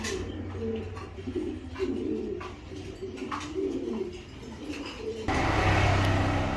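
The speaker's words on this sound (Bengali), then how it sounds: "এখানে এক পেয়ার কবুতর দিলাম ব্ল্যাকের ভিতরে" A pair of pigeons coos nearby in soft, repeated low calls against background noise that grows louder toward the end.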